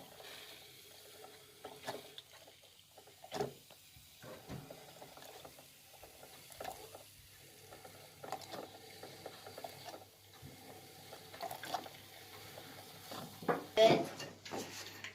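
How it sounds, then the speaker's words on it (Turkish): A Karaca Plus Mod machine clicks, ticks and gurgles quietly as it dispenses hot water, with a rattling mechanical burst building near the end, no talk heard. "Evet buradan sıcak su olarak geri çıkıyor."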